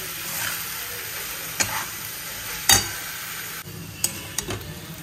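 Potatoes, beans and poppy seed paste sautéing in a pan, a steady low sizzle broken by a few sharp scrapes and clicks of a spoon against the metal.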